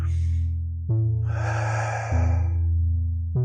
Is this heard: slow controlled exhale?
yes